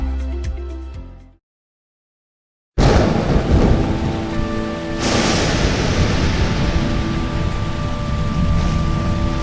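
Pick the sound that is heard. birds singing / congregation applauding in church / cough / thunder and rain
thunder and rain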